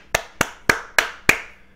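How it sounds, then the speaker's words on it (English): Five sharp hand claps in a steady, evenly spaced rhythm, close and crisp, each with a short ringing tail in a small room, with no voices. "that's me clapping with my hands"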